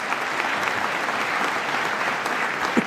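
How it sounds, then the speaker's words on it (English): An audience claps steadily through a senior school closing day ceremony in 2018, with sustained applause for a graduating student that stays even and loud from start to finish, with no one speaking over it. "Let's give him a round of applause on this."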